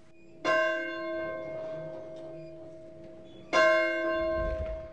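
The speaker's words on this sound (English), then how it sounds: "The church bell and its tower are original." An original 1897 bell in a historic church tower strikes twice, about three seconds apart, each loud clang ringing out and slowly fading.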